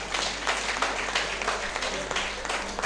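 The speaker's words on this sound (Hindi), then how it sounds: "तालियां जोर जोर से" Steady applause from a crowd, many hands clapping together at a lively pace for a few seconds.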